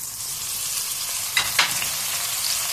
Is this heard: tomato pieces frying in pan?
yes